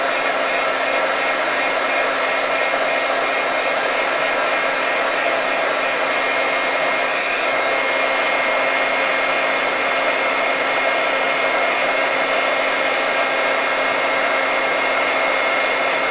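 A heat tool blows steadily to melt and set cream embossing powder on a die-cut layered heart Valentine's card, a loud continuous whooshing hum running unbroken from start to finish with no talking.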